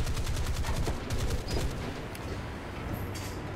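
Secondary guns on a warship in the naval combat of the War Thunder video game fire in rapid repeated bursts over a constant rumbling background, fairly distant and continuous.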